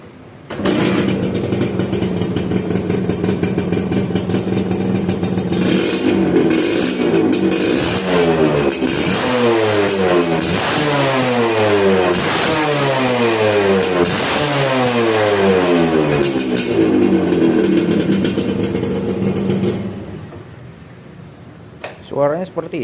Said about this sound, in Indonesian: Untuk mesin sih suaranya halus ya, mesinnya suaranya halus.